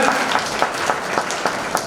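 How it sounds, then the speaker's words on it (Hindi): Audience applause at a Vishwakarma Jayanti community celebration, with steady, moderately loud clapping in a faintly rhythmic pulse and no talk over it. "जोरदार तालियों से स्वागत"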